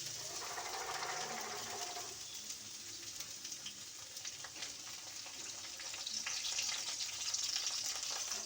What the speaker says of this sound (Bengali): 5 মিনিট এটাকে একটু ভাজা ভাজা করতে হবে।